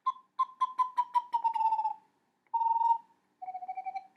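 A series of hollow, descending whistled trills imitating an eastern and a western screech owl, first a long bouncing run, then two shorter whinnies, clear and close with brief pauses.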